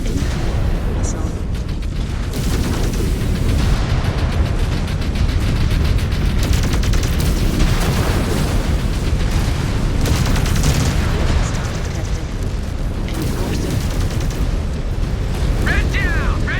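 Dense, continuous booming missile explosions and weapon fire batter a mech in MechWarrior 5 combat, a loud, relentless rumble with sharp bursts throughout, mixed with game noise and voices.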